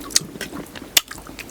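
Crisp bites into crunchy fried garlic at a winter forest campsite: two sharp, close crunches roughly a second apart, with softer chewing between them.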